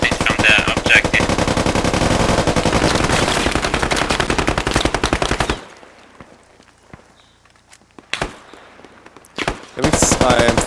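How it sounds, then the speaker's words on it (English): Squad video game gunfire: rapid machine-gun bursts rattle close and loud for several seconds, then after a quieter gap come sparse single shots and a renewed burst at the end. "enemies are shooting from the objective"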